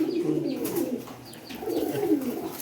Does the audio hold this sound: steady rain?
no